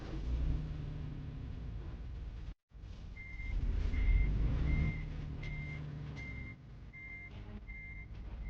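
A truck in reverse gives a regular string of loud electronic beeps over a deep idling engine rumble, with a brief cut-out early on, close by and without talk.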